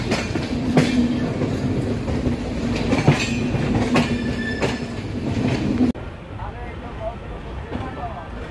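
An Antyodaya Superfast Express train runs on the rails, with a steady loud rumble and rhythmic clicks of the wheels, a voice talking over it, and the noise drops sharply near the end.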